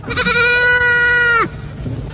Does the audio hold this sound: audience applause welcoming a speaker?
no